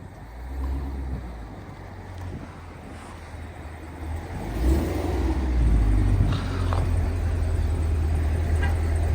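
A Cadillac V series car rumbles and revs from a short distance, the engine note swelling louder toward the end over low road and wind noise, with no clear talking.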